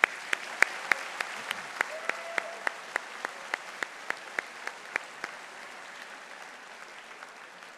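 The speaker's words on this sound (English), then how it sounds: "One last round of applause." Applause at a college convocation for the graduating class of 2023: a soft, distant wash of clapping with a few sharp, evenly spaced claps standing out up front, fading over the last seconds.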